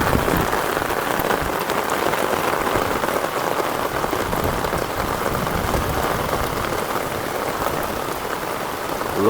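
Torrential rain pours down over Surat in a loud, dense, unbroken roar of drops on surfaces, steady throughout with no voices.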